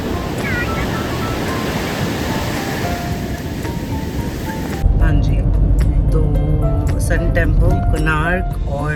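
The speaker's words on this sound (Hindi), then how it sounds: "लहरें बहुत ही कमाल की ऊँची थी" Roaring surf and high crashing waves at Chandrabhaga Beach fill the first half, a broad steady rush of water; then a voice speaks over louder, closer wind-buffeted noise.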